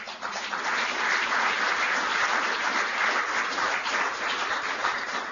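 An audience applauds steadily during a speech by Vice President Pence in South Korea, dense clapping sustained at an even level throughout.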